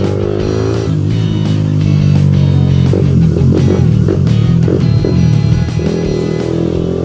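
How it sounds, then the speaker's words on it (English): A Suzuki GSXR 125 motorcycle's exhaust drones steadily and loudly while being ridden, its pitch shifting up and down with throttle changes and gear shifts, no voices over it. "I actually missed riding my bike and hearing the exhaust"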